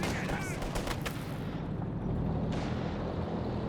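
A Walking Stuka rocket artillery barrage in Company of Heroes 2 pounds down as a burst of heavy rocket impacts and explosions, loud and rumbling, then trailing off into a lingering low roar.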